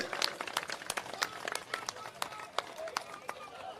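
Scattered, fairly faint clapping from a crowd at a BJP political rally and public meeting in Ratangarh, Rajasthan, with sharp individual claps over a low murmur throughout.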